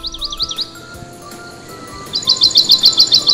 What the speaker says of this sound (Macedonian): Но тогаш птицата запеа.